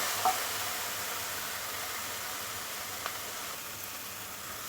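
Spice paste for a prawn curry frying and being stirred in a pan, a steady even sizzle with a couple of faint scraping ticks, close and continuous with no talking.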